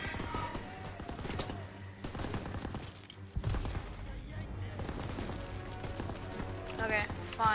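Call of Duty WW2 gunfire crackles through a World War II battle near a church, with repeated close shots and bursts over constant combat noise and shouted voices.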